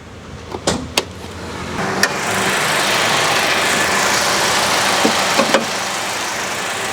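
A Toyota Avanza engine running at a steady idle, a continuous low hum with a few clicks and knocks near the start.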